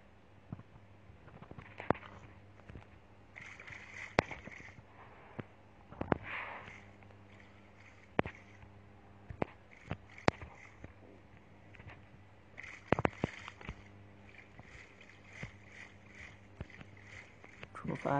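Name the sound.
rowing a small boat in the video game Minecraft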